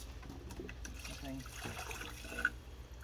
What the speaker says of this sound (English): make sure all the liquid runs out. See, it's all clear water at this point.